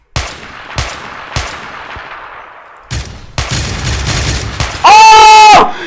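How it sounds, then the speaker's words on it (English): Gunfire in Minecraft with a guns mod during a hunger games match: several sharp single shots spaced about half a second apart, then a denser burst and a loud tonal ringing blast near the end, with no talking. "Aim,"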